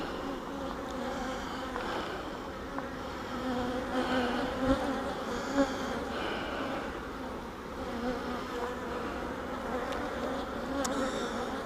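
Honeybees buzz steadily around an opened hive during honey pulling, a dense, continuous drone of many insects close by with slight swells in loudness and no voices.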